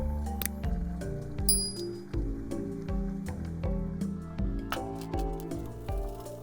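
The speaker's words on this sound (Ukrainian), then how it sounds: "Куряче філе надрізаємо в кількох місцях." A knife cuts into a raw chicken fillet in several places, making soft, moist squishy slices mixed with light clinks and taps. The sounds are quiet, close and irregular, with no voices.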